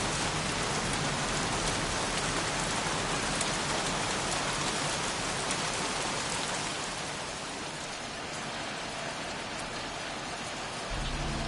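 Heavy downpour in the video game Heavy Rain, an unbroken wash of falling drops that eases slightly toward the end, steady and near with no talking.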